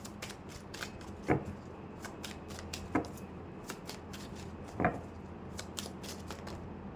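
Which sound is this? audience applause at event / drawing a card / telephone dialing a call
drawing a card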